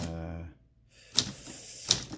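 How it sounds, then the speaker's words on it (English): A manual typewriter, a Voss ST 32 or a Torpedo 18, gives two sharp, separate key strikes up close, following a brief tone and a short pause. "Really nice typewriter."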